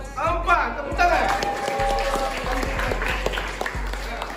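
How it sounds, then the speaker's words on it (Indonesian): Classroom applause for a winning student group, a burst of many hands clapping in a room, fairly close and busy, mixed with voices talking over it. "Tepuk tangan."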